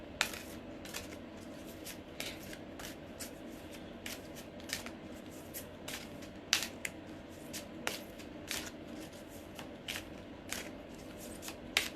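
A deck of oracle cards is shuffled by hand during a spiritual reading, giving a run of crisp riffling bursts at a fairly steady rhythm, close and moderately quiet over a low room hum.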